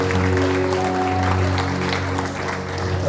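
Congregation applauding at a national religious convention in Aparecida, a steady wash of clapping over a sustained organ or keyboard chord and a low hum, fairly loud throughout.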